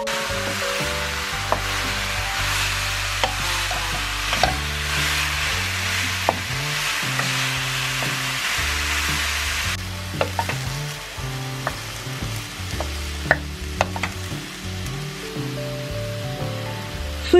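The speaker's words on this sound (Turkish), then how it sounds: "Biraz karıştıracağım." Meat for Turkish tas kebab frying and being stirred in a pan, a steady close sizzle with scraping and clinking utensil strokes throughout, no talking.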